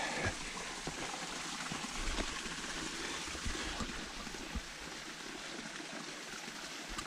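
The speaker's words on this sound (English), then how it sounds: "daar's meer water wat hier loop as wat ek gedink het daar gaan wees." Running water from a mountain stream on a South African hiking trail, a soft, steady rushing trickle heard alone and fairly faint, with no voices.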